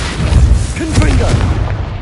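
Confringo fire spell blast in Hogwarts Legacy, a loud booming burst with rumbling low-end impact, accompanied by a shouted voice during the cast.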